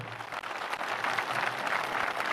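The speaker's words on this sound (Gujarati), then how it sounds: "એક વખત તાળીઓના ગડગડાટથી એને સમર્થન આપીએ" An audience at a community organisation gathering in Rajkot applauds, a dense, steady wash of many hands clapping at moderate volume, heard without speech.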